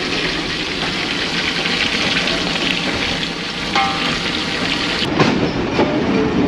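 A train runs along the rails into a railway station, a loud continuous rumble and rattle of wheels with faint clatter, heard up close from aboard with no talk.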